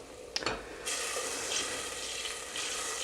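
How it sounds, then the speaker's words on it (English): Mop sauce of vinegar, oil and spices simmering in a pot for pulled pork, a steady close bubbling sizzle with a couple of brief stirring knocks early on, no talk. "That's boiling real nice."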